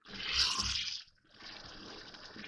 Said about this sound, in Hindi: अब इसमें थोड़ा सा पानी डाल रही हूँ मैं, आधी प्याली